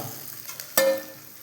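A soft clink, then coconut pieces drop into hot coconut oil with a sudden sharp sizzle that flares up close and quickly fades.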